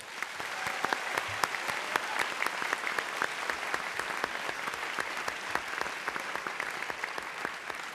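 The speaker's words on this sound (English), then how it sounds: "Let's give them a round of applause." Audience applause at the National Science Bowl middle school championship, a dense, steady clatter of many hands clapping for the full length, loud and close with no talk over it.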